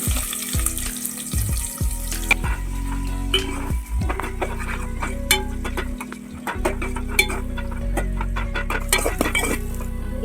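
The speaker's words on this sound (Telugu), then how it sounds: "ఇప్పుడు అయితే ఆయిల్ హీట్ అయిపోయింది కదా ఇందులో పచ్చిమిర్చి అలాగే ఆనియన్స్ వేసేసుకుంటున్నా" Green chilies and onions sizzle in hot oil in a home kitchen, a steady crackling fry with occasional clinks of a pan and utensil, close and fairly loud throughout with no talking.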